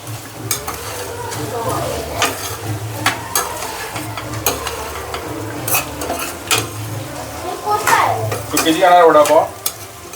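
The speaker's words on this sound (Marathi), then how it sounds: "आता हे छानपैकी सॉटे करून घेऊ" Vegetables for a veg party dish sauté in a pan, with a spoon repeatedly scraping and clinking against the metal over a soft sizzle, close and rhythmic, with brief background voices.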